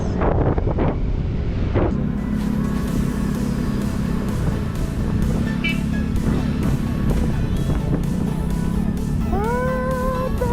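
Strong wind roars steadily against the microphone at the Taal Volcano viewpoint, a loud, constant buffeting rush with faint background traffic hum and brief tonal sounds near the end.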